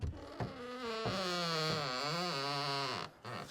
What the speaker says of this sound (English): that noise is the OSB rubbing on the floor